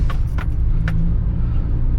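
A car on a dug-up, broken stretch of University Road in Karachi jolts hard three times, each bump a sharp rattle over the steady close drone of the moving vehicle.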